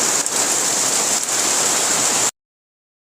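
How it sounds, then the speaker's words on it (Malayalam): Heavy rain pouring steadily into a bucket, a dense close splashing hiss of falling water, which cuts off abruptly near the end. "നല്ല മഴ പെയ്തിട്ട് ബക്കറ്റിലാണ് നല്ല വെള്ളം വീഴുന്നത് കേട്ടോ"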